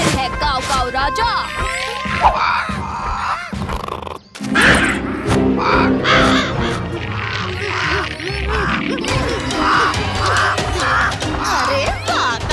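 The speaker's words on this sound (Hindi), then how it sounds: "भीम कौवा आपकी खिदमत में हाजिर है, काव काव राजा।" A cartoon crow caws repeatedly in a Hindi children's animation, a series of harsh rhythmic calls over busy music and sound effects.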